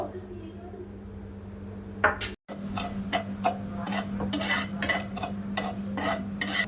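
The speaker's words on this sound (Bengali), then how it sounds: "এবার আমি 3 চামচ মতো চিনি ফ্রাইং প্যানে দিয়ে একটা চিনির ক্যারামেল বানিয়ে নেব" A spoon stirs about three spoonfuls of sugar in a frying pan as it melts toward caramel, giving repeated close scraping and clinking strokes over a low steady hum, with a brief dropout partway through.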